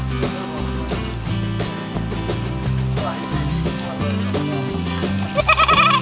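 Nigerian Dwarf goats on a goat farm bleat several times in short, wavering calls, close by, with people talking quietly in the background.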